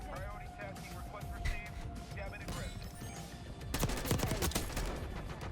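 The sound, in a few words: gunfire from the video game Black Ops 6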